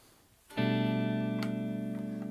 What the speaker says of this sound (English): Crystal clean reverb